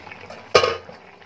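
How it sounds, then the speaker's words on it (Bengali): One sharp metallic clank as a lid is set onto a pot of fish curry cooking with tomato and chili, followed by a brief ringing rattle, close and fairly loud. "এই ঢাকনা দিয়ে ঢেকে দিলাম"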